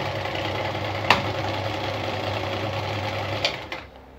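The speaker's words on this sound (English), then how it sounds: "That's the Singer Model 319K sewing machine, showing its features and functions." A black Singer Model 319K sewing machine runs steadily, giving a continuous close mechanical whir with a couple of sharp clicks, and no one talks over it.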